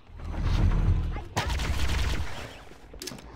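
Laser-style gunfire from the Cursed Halo game on the Truth & Reconciliation mission, a loud burst of layered blasts and booms with a sharp shot in the middle and crackling bursts near the end, mixed with game noise.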